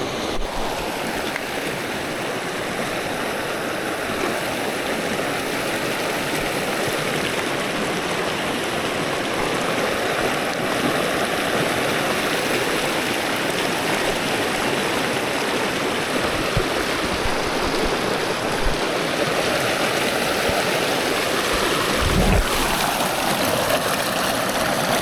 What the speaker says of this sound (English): wanted to take a little dip in the creek